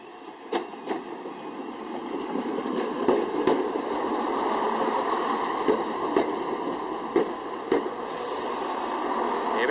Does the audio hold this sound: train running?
yes